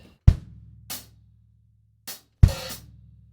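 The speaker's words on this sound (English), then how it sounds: "So we're going to play bar 1 and also the downbeat of 1 of the second bar." A single drum kit plays a Grade 3 exam groove, with sparse strokes: a low kick-and-cymbal hit, a short snare-like hit, a brief closed hi-hat chick and a final louder hit with an open hi-hat wash ringing out, close and clear.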